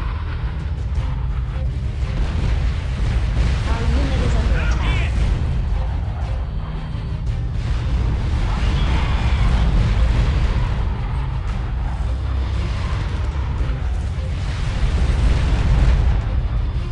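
Buildings exploding in the video game Art of War 3, a continuous loud rumble of booms and blasts with no break, under game voice announcements.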